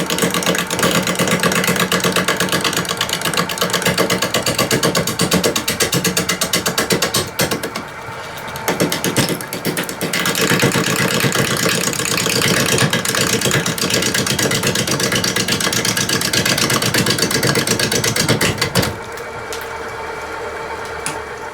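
A wood lathe spins a piece being hollowed into a ball-shaped vessel at about 500 RPM, giving a steady, loud mechanical whir with rattling texture that dips briefly partway through and drops lower near the end.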